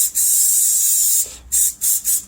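Sound-deadening coating sprays from a nozzle onto the floor of a 1962 Comet, a loud, close hiss that holds steady for over a second, then sputters in three short bursts, with no talking.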